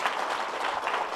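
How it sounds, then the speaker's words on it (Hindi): Audience applause at a Buddhist vihara gathering, a brief dense burst of clapping at steady loudness. "जोरदार तालियां।"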